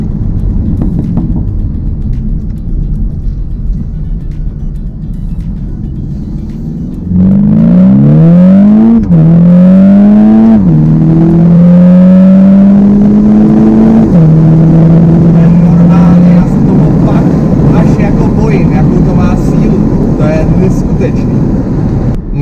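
A 300-horsepower VW T-Roc R with an Akrapovič exhaust revs hard in a series of rising bursts, loud and close, with sharp crackling pops from the exhaust.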